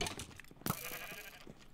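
A sheep bleats in a video game, a short, quavering cry heard faintly within a dense bed of game music and ambience, with no speech.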